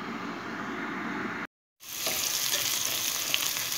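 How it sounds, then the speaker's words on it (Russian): Onion and grated carrot sizzling and crackling in a hot pan, a steady close frying hiss broken by a brief silent gap, then stirring noises. "И обжариваем до прозрачности лука."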